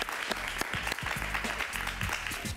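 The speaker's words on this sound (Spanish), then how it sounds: "un aplauso para él" A studio audience at a television interview with a singer applauds, a brief burst of clapping running beneath low, steady tonal sounds throughout.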